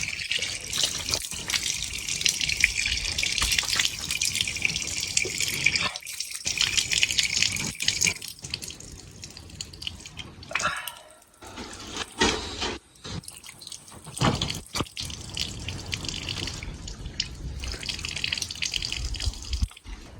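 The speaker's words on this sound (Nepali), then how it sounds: "म चाहिँ अनुहार धुनतिर लागेँ" Cold tap water running and splashing with intermittent drips and gushes as someone washes their face in the morning, close and fairly steady with brief pauses in the flow.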